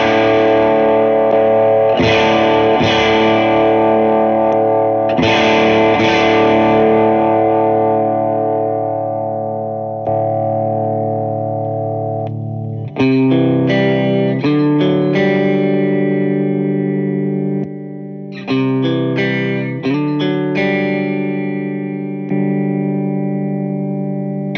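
Electric guitar playing sustained chords through an overdrive pedal, loud and thick, with the drive switched off and on so the tone and sustain shift between sections of steady ringing notes and choppier strummed bursts.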